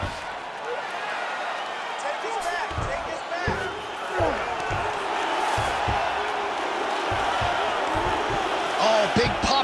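Arena crowd at a UFC welterweight main event, Colby Covington versus Ian Garry, roaring and cheering as the fighters rise from a ground grappling exchange, a loud sustained swell with sharp shouts and thuds, under a commentator's voice.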